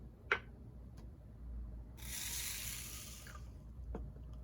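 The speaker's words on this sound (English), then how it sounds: "right now I'm going to add a little water" A little water is poured onto desiccant products, giving a soft, close hiss and trickle that runs for about a second and a half amid faint ticks and light handling noise, with no talking.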